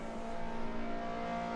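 A steady, high-pitched race car engine in a racing video game at the Guia Circuit, Macau, drones at constant revs, fairly faint and continuous.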